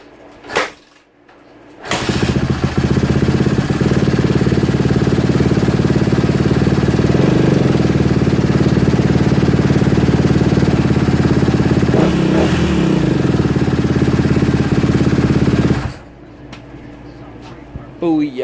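Kawasaki KX250F dirt bike engine kicks over and catches, then runs loud and steady for about fourteen seconds with a couple of brief revs, then cuts off abruptly; a voice speaks near the end.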